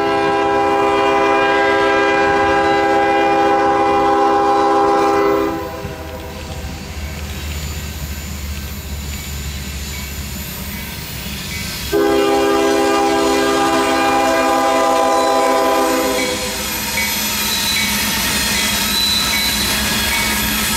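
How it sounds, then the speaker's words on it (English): A westbound loaded grain freight train from Russell, Kentucky, bound for Aberdeen, North Carolina, passes close by, sounding two long, loud horn blasts over the steady rumble and clatter of its cars. "westbound Russell, Kentucky to Aberdeen, North Carolina, loaded grain train G46322 mounted their way off the Wilmington side"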